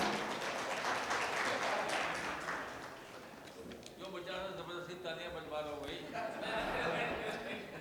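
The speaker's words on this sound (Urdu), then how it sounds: "یہ آرگینک تالیاں ہیں" Audience applause at a book launch for a history title, a crowd clapping steadily in a hall, fading partway and then picking up again, with a voice speaking over it in the later part.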